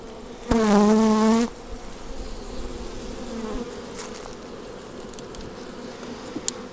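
Honey bees buzz loudly around an open hive in one strong burst of about a second, then fade to a faint background drone with scattered small knocks.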